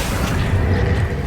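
A spell cast in Hogwarts Legacy, heard as a single low, rumbling magical whoosh that swells and fades over about a second, steady and fairly loud with no voices.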